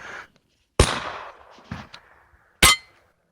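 A BB gun fires at targets, with three sharp, separate cracks and clanging impacts spaced by quiet gaps, each followed by a brief ringing tail.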